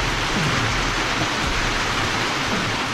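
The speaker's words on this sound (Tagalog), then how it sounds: "Buti na lang may ulan." Rain falls steadily as a dense, even hiss with a low patter underneath, constant and fairly loud with no voices.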